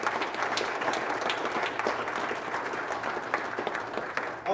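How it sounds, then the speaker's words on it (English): An audience at a Baltimore lecture gives a big round of applause, steady dense clapping with a few sharper claps standing out, loud and close throughout. "Big round of applause."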